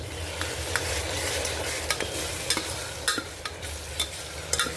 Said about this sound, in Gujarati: હવે નાખીશું આપણે ટામેટાં